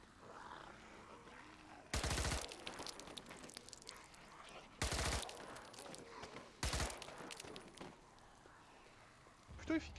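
Gunfire from a weapon in the zombie video game Contagion, three loud bursts of rapid shots spread across the clip with quieter game ambience and a short final burst between them.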